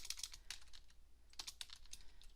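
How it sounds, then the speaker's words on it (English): Keys clack on a computer keyboard as someone types code, bursts of quick, close taps separated by a short pause in the middle, with no talking. "we'll go ahead and start typing"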